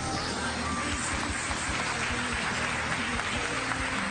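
A church congregation claps steadily during an evening service, a dense, continuous wash of applause heard at a moderate distance with faint voices mixed in.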